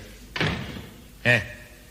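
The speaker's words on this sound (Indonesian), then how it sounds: "Itu menutup pintu yang benar." A house door is pushed shut, giving two dull thuds about a second apart, close and moderately loud against a quiet room.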